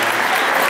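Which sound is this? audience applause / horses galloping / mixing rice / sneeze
audience applause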